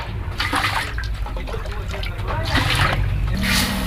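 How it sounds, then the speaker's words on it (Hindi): Water splashes and pours steadily into a pot while making bitter apple murabba, a continuous liquid rush with muffled voices faintly in the background. "4 गिलास पानी डाल देंगे।"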